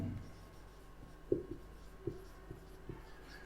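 A marker or chalk writes an accounting T-shape account format on a board, giving a faint scratching stroke with several soft taps and squeaks in a quiet room.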